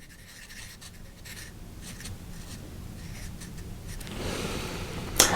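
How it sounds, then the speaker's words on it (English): Pencil drawing a black hole on paper: faint, close scratching and scribbling strokes that build gradually, ending with a brief sharp tap. "you've just seen me draw the black hole"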